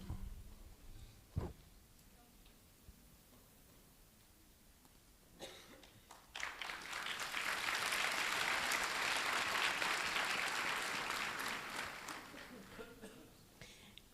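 At a graduation ceremony, after a cough and a few quiet seconds, an audience breaks into applause that swells, holds steady, then tapers off.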